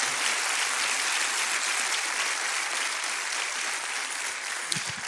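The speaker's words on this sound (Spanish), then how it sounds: "Dale un aplauso a Dios si entendiste" A church congregation applauds at the close of a sermon, steady dense clapping filling the room, loud and sustained throughout with no talk over it.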